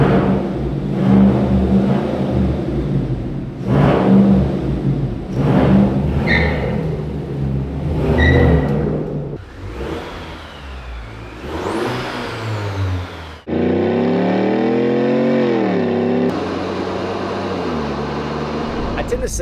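A 2024 Chevrolet Colorado AEV Bison truck engine revs in several loud swelling bursts, then a higher whirring surge and a steady raised drone close by, with a voice talking over parts of it.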